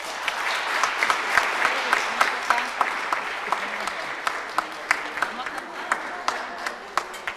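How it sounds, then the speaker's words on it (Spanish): A church congregation at Sunday Mass applauds warmly, with dense clapping holding steady throughout and a few sharper individual claps standing out near the end. "Fuerte aplauso."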